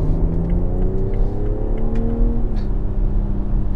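A 2018 BMW X3 M40i accelerates hard, its engine note climbing steadily in pitch as a continuous, strong drone heard from inside the cabin.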